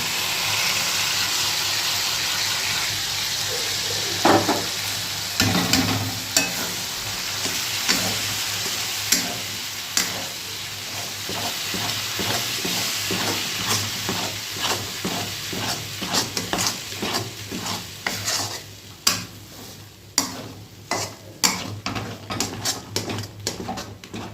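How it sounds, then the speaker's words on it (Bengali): Ground lentil paste stirred and fried in a wok for dhoka, with a steady sizzle and repeated scraping strokes of a spoon that speed up toward the end, close and moderately loud, no talking. "এবার এটাকে একদম নাড়তে নাড়তে পুরো যখন কড়াই থেকে উঠে আসবে তখন আমি এটাকে ঢেলে নেব কড়াই থেকে"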